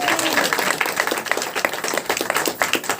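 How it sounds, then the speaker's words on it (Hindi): A congregation at a Christian worship service claps together in a steady, dense burst of hand claps with crowd noise, fairly close and continuous throughout. "जोर से ताली बजाएं।"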